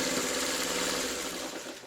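Sewing machine stitching a quarter-inch seam on fabric strips for a quilt block, a fast, steady whirring motor hum up close that runs the whole short moment and fades slightly at the end.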